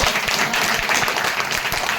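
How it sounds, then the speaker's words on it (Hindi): A church congregation applauds loudly during a Hindi Christian worship service, a dense continuous burst of close clapping with no talk over it. "जोरदार तालियां परमेश्वर के लिए"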